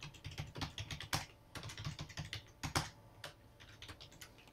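Hard, rapid typing on a clicky computer keyboard, a steady run of sharp close-up key clacks with a few louder strikes, with no talking.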